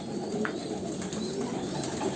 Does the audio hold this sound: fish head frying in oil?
no